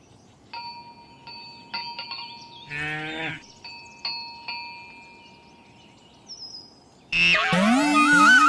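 A cow lets out a couple of loud, drawn-out moos, the second longer and fuller, set among bright chiming tones and a quiet background.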